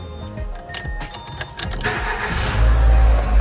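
A 2015 Renault Duster 4x4 with manual gearbox is started, a short whirring crank that builds into a louder, deep engine rumble as it catches, heard close up.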